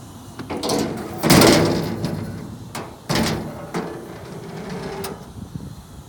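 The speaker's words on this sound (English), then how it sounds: "I'm going to try to open this hood real quick here" Hood of a Case 570MXT tractor loader being opened, with a couple of loud metallic clunks and rattling slides followed by lighter knocks and a final click, close by, with a little speech in the background.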